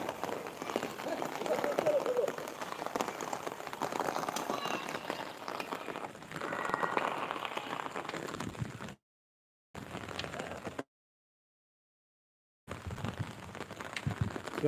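Unseasonal rain falls over farmland, a soft, steady broadband patter heard faintly under a speaking voice. The sound cuts out completely in a couple of short gaps before resuming.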